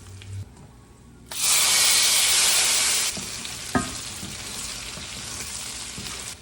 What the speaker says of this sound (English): I'll melt it to kind of fry up and crisp. You can already see the butter getting brown.